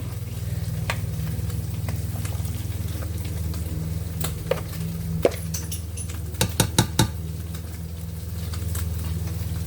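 Food sizzling and frying in a pan over a steady low hum, with a few sharp utensil clicks and scrapes near the end, no voices.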